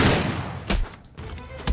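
Shotgun blasts in the video game Uncharted 3: a heavy opening boom followed by two more sharp shots spaced apart, with muffled game action underneath.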